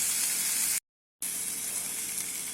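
Fish shallow-frying in a little oil in an Amway Queen pan, a loud steady hiss of sizzling that briefly cuts out and then resumes just as strong.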